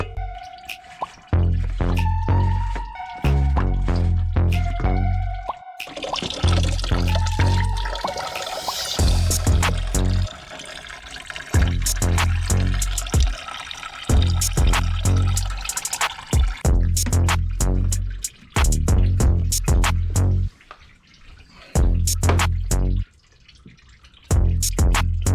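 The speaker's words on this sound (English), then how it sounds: "Make sure you got a couple containers, to catch your antifreeze." Antifreeze coolant drains from a car radiator through an opened valve into catch containers, a steady liquid drip and splash with repeated knocking and clunking handling noises over much of the stretch, close and fairly loud.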